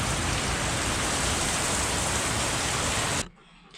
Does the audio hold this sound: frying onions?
no